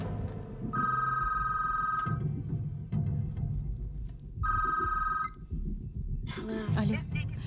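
An old-style telephone bell rings in two long bursts separated by a pause, clear and fairly close in a room, with low background murmur between the rings.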